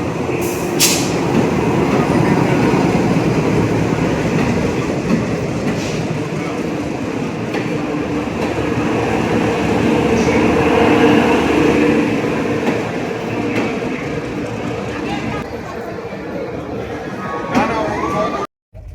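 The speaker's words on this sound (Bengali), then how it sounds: "চলে এসছে আমাদের ট্রেন" Kumbha Express pulling into a station platform in India in December, a steady loud rumble of the train and platform noise filling the whole stretch, with people talking over it.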